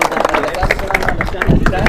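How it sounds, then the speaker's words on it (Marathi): Brisk applause from a small audience at a live quiz show held at a study centre, rapid close claps under a speaking voice. "जोरदार टाळ्या सरांसाठी"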